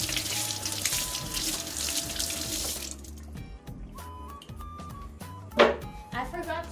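Tap water runs while potatoes are washed in a sink, a hissing stream in the first few seconds that then stops, with someone talking over it.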